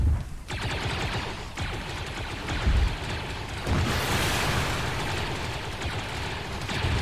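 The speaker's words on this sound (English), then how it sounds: "we're already under fire" Gunfire in the video game ArmA 3 during a Star Wars-themed operation, a dense, sustained barrage of shots and blasts with a few sharper bursts, loud and unbroken throughout.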